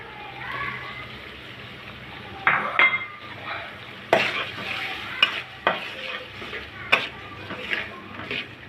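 Spice paste of ginger and garlic with soaked dried fish is stirred and fried in a pan, giving a soft continuous sizzle broken by sharp scrapes and clinks of a spoon against metal, close up.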